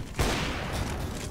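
Gunfire in Counter-Strike, a loud burst of shots that starts sharply after a brief lead-in and rolls on as a dense, sustained rattle with a couple of further peaks.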